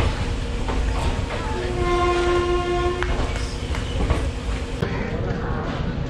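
A train pulls into Jalpaiguri railway station in West Bengal, its horn sounding in a long steady blast over the rumble and clatter of the carriages, with people talking nearby.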